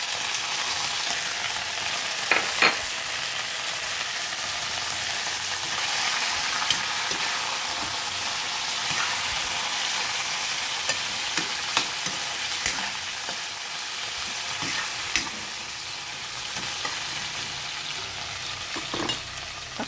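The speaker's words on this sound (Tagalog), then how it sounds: "So, ihuhulog na natin ang chicken." Chicken pieces for chicken afritada fry in a pan after browning, giving a steady dense sizzle with scattered pops and crackles throughout, close and continuous with no talking.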